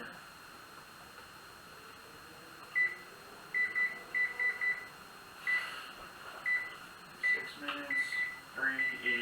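Home oven timer being set while cooking honey BBQ ribs: a series of short, clear electronic beeps in irregular clusters over a steady background hiss, with soft handling noises near the end.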